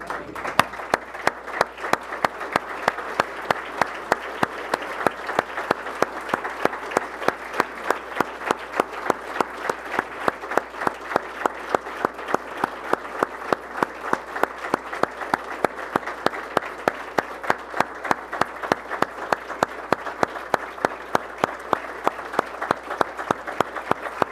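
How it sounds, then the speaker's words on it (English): Sustained applause from a large audience honouring Canadian military officers at a Canadian Club Toronto luncheon, steady dense clapping continuing unbroken at even loudness throughout. "Hard to stop clapping for these great Canadians"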